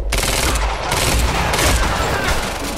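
Rapid, dense gunfire in the video game Quantum Break, loud overlapping bursts of automatic fire with booming low-end impacts throughout, no pause.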